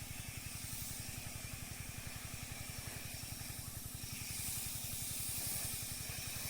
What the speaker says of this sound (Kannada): ನೋಡ್ರಿ ಎಷ್ಟು ಪಿಲೆ ಎಣ್ಣೆ ಹೆಂಗೆ ಹೊಡ್ಯಾಕತ್ತೀವ್ರಿ ನಾವು